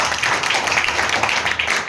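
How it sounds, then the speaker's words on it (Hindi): A direct-selling seminar audience claps steadily, a dense wash of applause lasting about two seconds with no pauses. "जोरदार ताली हो जाए"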